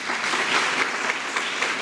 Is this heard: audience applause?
yes